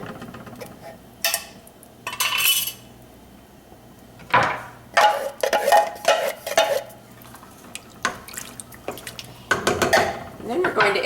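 Canned diced tomatoes tipped into a pot of pinto beans, with scattered metallic clinks, scraping and short wet splashing bursts coming in irregular spurts over a quiet kitchen background.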